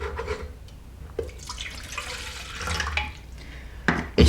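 Water trickles and splashes into a leaking camping pot in a few short pours, with small drips and clinks between them and a sharper knock at the end, close and moderately quiet, no talking.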